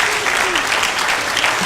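An audience gives a round of applause for someone who has just pushed past their comfort zone, a brief burst of steady clapping that carries on without a break.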